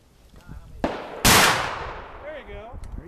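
A flintlock muzzleloading rifle fires one loud, sharp shot after a faint priming flash, and a long echo rolls away behind it. People talk before and after the shot.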